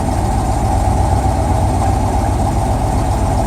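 A car engine idles steadily and close by, a continuous low rumble with an even, unchanging rhythm and no voices over it.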